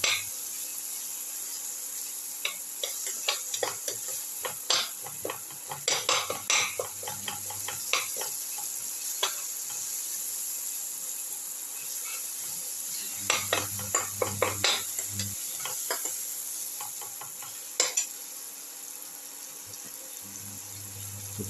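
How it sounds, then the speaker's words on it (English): Potatoes with cumin seeds being sautéed in a pan, with spatula scrapes and clatters against the metal over a steady sizzle, busiest in the middle and later stretches, with no voices. "Keep on sauteing."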